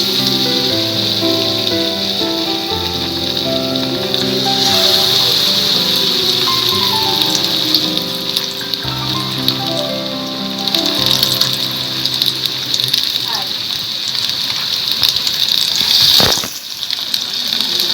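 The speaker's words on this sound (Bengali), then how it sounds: "তেলটা গরম হয়ে গেছে, আমি এবার পকোড়াগুলোকে আস্তে আস্তে ছাড়বো।" Fish and taro stolon pakoras frying in hot oil, a dense crackling sizzle that holds loud and steady throughout with bubbling spatter and occasional sharper pops.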